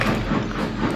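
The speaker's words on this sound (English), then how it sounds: "Henry rolled in with this commuter train." A commuter train rolls into a station with a loud, continuous rumble and a faint rhythmic clatter of wheels, close and steady throughout.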